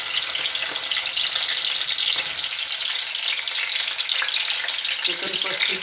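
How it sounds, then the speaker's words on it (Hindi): Half a kilo of chicken frying in hot oil for aloo gosht, a steady loud sizzle and crackle throughout with faint stirring scrapes near the end. "अब चिकन को फ्राई कर लेते हैं।"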